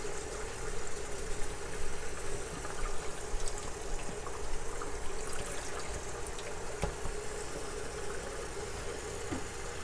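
Cold water runs steadily from a kitchen sink tap over macaroni, giving a continuous, even hiss and rush with no talking.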